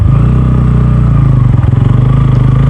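A Bajaj Pulsar N160 motorcycle engine idles loud and close with a steady, throbbing pulse. Near the middle it briefly dips and stumbles, then picks up again and carries on at the same rhythm.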